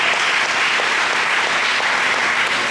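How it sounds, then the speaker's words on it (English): Audience applause at a symposium in Memphis, a thick, even wash of many people clapping, loud and sustained without letup or voices on top. "Give them a round of applause as well."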